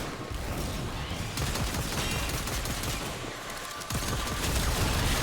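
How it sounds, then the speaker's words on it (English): Rapid video-game gunfire aimed at a robot enemy during a mission, loud and continuous bursts of shots with a brief lull near the end before firing resumes. "Having a hard time shooting this thing for some reason."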